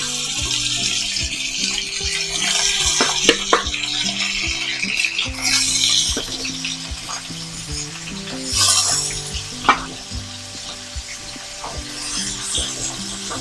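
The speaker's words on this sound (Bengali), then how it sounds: "আমি কই মাছটাকে ম্যারিনেট করে রেখেছি এক ঘন্টা আগে এখন এটা ফ্রাইয়ের জন্য দিচ্ছি" Marinated koi fish (climbing perch) frying in hot oil in a pan, a steady crackling sizzle with scattered pops and the clink of a utensil stirring, moderately loud with no talking.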